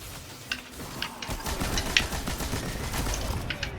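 Heavy gun firing in the video game Destiny 2, played as the Hunter class: sustained dense gunfire and explosive bursts run throughout, loud and continuous with sharp cracks on top.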